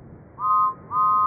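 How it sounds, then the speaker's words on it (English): Two clear, evenly spaced toots of a steam engine's whistle sound close and loud in a Thomas the Tank Engine episode, each about a third of a second long, over quiet background. "Then he heard a whistle."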